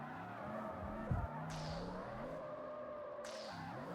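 A car spins around with skidding, squealing tires in the street-racing video game CarX Street; the engine drones steadily throughout with a sharp thump near the start and rising tire squeals, fairly loud and without speech.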